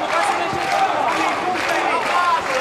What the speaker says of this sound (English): You can really hear this Helsinki crowd.